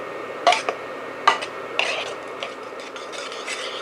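A utensil stirs melting butter in a saucepan, with a few sharp scraping clinks against the metal early on, then softer, quieter stirring movement.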